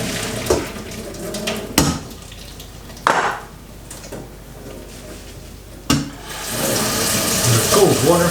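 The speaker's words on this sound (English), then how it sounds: "Drain the noodles in a colander." Boiled ramen noodles are tipped into a colander and water pours and splashes in bursts, with sharp metallic knocks between them, ending in a longer, louder gush of water.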